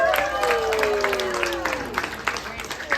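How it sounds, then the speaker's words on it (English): Audience applause at the Gatorland alligator show's up-close encounter, scattered clapping from an outdoor crowd under louder foreground sounds and voices. "Give her a round of applause, guys."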